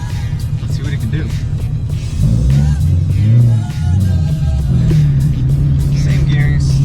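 A 2016 Camaro SS with bolt-on modifications rated at 485 wheel horsepower accelerates, its deep engine drone rising in pitch and loudness mid-clip and holding a steady rumble from inside the car.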